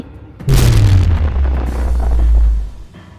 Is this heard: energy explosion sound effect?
yes